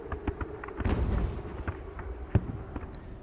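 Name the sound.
artillery cannon fire in the video game Ultimate General: Revolution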